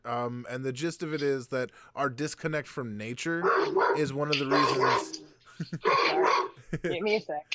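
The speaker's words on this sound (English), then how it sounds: "Yeah, that's a dog." A dog barks and yips intermittently in the background while a person keeps talking in the foreground.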